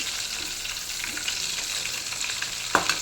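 Fish and prawns fry in a pan of oil with a continuous bright, crackling sizzle, close and steady, with a sharper pop near the end.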